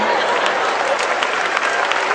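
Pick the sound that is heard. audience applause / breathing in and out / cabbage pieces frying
audience applause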